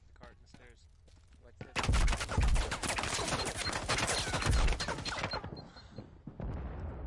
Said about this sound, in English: good exchange of fire right there